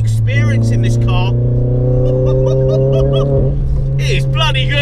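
Renault Clio RS200 hot hatch with a raw, polybushed chassis and engine mounts, its exhaust droning steadily and loud while driving, a continuous low rumble with layered engine harmonics under intermittent talk from inside the car.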